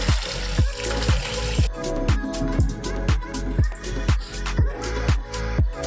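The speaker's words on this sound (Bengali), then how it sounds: "দেখুন বাঁধাকপি সেদ্ধ হয়ে গেছে, এবার আমি গ্যাসটা বন্ধ করে দিচ্ছি। এবার এটাকে ছেঁকে নেব। আমি এটা ছেঁকে নিচ্ছি।" Water from boiled cabbage pours out through a strainer in a steady, close trickle, broken by a regular series of splashy drips and gurgles.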